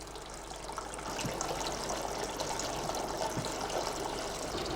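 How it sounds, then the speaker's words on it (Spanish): Condensed pine resin distillate mixed with water trickles steadily into a Florentine separating vessel during traditional pitch making, a continuous soft watery patter with faint splashes, no voices. "el vapor se licúa y se decanta a través de un recipiente llamado vaso florentino"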